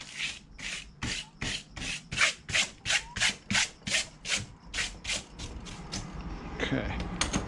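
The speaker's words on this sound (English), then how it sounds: "Let's brush some of this sanding garnet off." Garnet sanding grit being brushed off during a vintage Stanley No.4 hand plane restoration: about a dozen quick, even bristle strokes in a steady rhythm, close and fairly soft, then a few scattered rubbing sounds.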